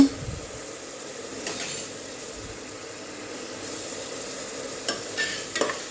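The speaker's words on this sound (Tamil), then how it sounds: "இப்போ இஞ்சியை நல்லா கிண்டி விட்டுக்கோங்க" Ginger garlic paste being stirred in a frying pan while cooking tomato rice, a soft scraping and sizzle with a few louder clinks of the spoon near the end, no talking.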